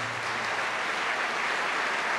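Applause from a church congregation: a steady, even mass of clapping hands at moderate volume, continuous and without pauses, with a faint low tone at the start.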